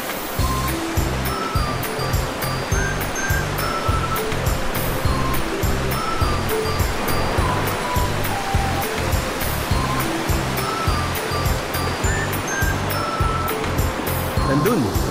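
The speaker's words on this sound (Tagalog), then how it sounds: "Dito kami sa tabing ilog." A river flows past a campsite at Camp Gilmore in Famy, Laguna, with a constant loud rushing wash of water throughout, scattered with faint chirps and a rhythmic low thumping under it.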